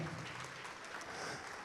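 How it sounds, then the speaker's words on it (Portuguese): A church congregation claps together in a steady, dense patter that carries on without a break, heard at a moderate distance and fairly quiet. "Vamos aplaudir mais ao nome do Senhor"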